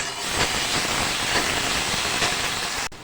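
Garlic sizzles in about two tablespoons of hot oil in a skillet, giving a loud, continuous hiss that stays steady before cutting off abruptly near the end.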